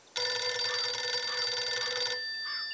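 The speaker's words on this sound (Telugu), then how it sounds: "ఒక నిమిషం అన్న, ఫోన్ వస్తుందన్న" A telephone rings steadily and clearly for about two seconds, a continuous bright tone pulsing in a regular pattern, then cuts off, leaving faint room tone with a brief soft sound at the end.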